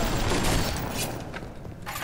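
Enemies open fire in Bioshock, and dense bursts of close, loud gunfire crackle in an irregular rapid rhythm, fading briefly before another volley.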